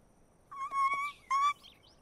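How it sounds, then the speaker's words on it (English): Cartoon birds chirping in My Little Pony: Friendship is Magic, two short bright tweeting calls in quick succession, clear and close against a quiet background. "it looks like your birds are back."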